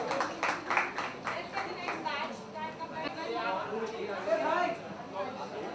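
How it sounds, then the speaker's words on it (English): A small crowd gives a short round of applause for the first set of winners at a promotional event with an actress, a few seconds of scattered clapping that gives way to chatter and talking voices. "Give them a round of applause."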